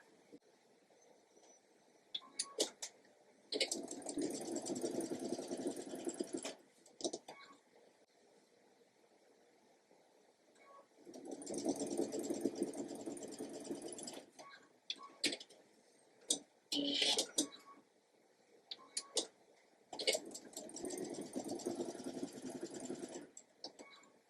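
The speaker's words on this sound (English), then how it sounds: "I will chain stitch tops and bottoms on" A sewing machine chain-stitches quilt pieces in three quiet runs of rapid whirring stitches, each a few seconds long, separated by pauses filled with small clicks and fabric handling.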